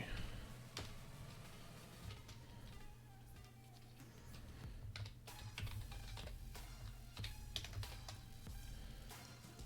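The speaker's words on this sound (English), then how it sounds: "I'm just going to type it." Typing on a computer keyboard while preparing a tabletop role-playing game session: a quiet, steady run of clicking keystrokes over a low background hum, with no voices.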